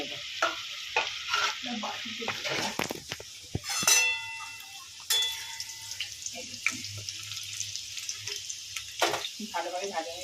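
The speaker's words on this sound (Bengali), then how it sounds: "আমার ওল আর আলু দুটোই ভালোভাবে ভাজা হয়ে গেছে" Elephant foot yam and potato pieces fry in a pan with a soft, steady sizzle, broken by occasional clinks and stirring scrapes. A short burst of running water from a tap is heard.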